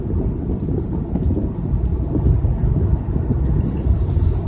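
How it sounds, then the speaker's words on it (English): Rain heard from inside a 2004 Mazda RX-8 while driving, a loud continuous low rumble of road and rainfall on the car with steady wash and no voices. "Because it's raining now."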